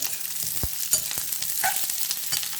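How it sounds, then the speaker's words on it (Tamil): Onions frying in hot oil with cinnamon, a continuous sizzle broken by a few sharp clicks of a stirring spoon against the pan. "பட்டை கொஞ்சம் பொரிச்ச பிறகு வெங்காயம் போடலாங்க"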